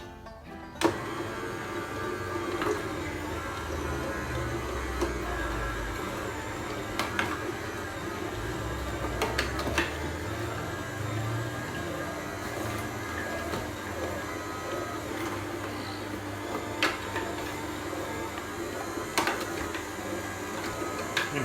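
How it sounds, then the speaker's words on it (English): An electric juicer processes inch-sized cubes of diced fruit with a continuous whirring motor hum, broken by irregular thuds and knocks as pieces are pushed through. The juicer runs steadily and close, with no speech. "we've diced all our ingredients up so they'll fit through the juicer"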